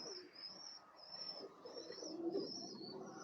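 Pigeons cooing in a loft on a sunny, windy day, soft low coos rising and falling under a faint steady high hiss, fairly quiet, no talk.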